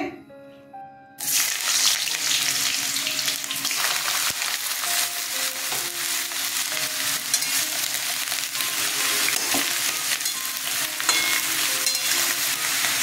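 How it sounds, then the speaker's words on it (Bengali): Brinjal dropped into hot oil bursts into a loud, dense sizzle that holds steady for many seconds after a brief quiet start, close by, with faint utensil movements and no talking. "তেলটা গরম হয়ে গেছে, আমি বেগুনটা ছেড়ে দিয়ে মশলাটা পেস্ট করব। বেগুনটা ছেড়ে দিচ্ছি"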